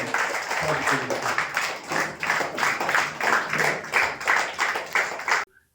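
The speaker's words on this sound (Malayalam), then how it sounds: "നമുക്ക് ഒരു നല്ല കയ്യടി എഴുന്നേറ്റ്" An audience at a club installation ceremony gives steady, sustained applause, many hands clapping at close range for several seconds before it stops abruptly.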